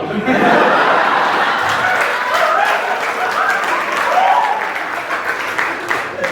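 Audience at a live stand-up comedy show breaking into sustained applause mixed with laughter, a loud dense crowd clapping that holds steady throughout.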